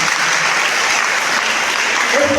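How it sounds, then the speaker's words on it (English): A large audience breaks into steady applause, honoring seniors who earned a BCA rank at a college event, dense clapping sustained throughout with a faint tonal voice near the end. "A big round of applause for them."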